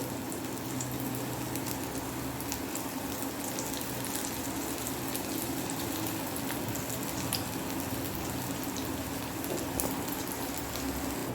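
Onion rings sizzle steadily in hot oil while being fried for vegetable pakoda, an even, constant crackling hiss with no pauses and no voices over it.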